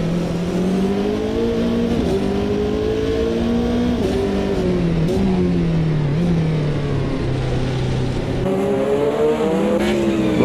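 GT1 race cars at Le Mans in the Automobilista 2 racing game, engines droning loudly and continuously with rising and falling revs as cars shift gears through a dusty section, no talk.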